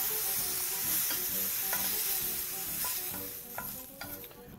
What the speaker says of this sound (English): always remembering to continue browning your meat right up until you get a nice even color right around it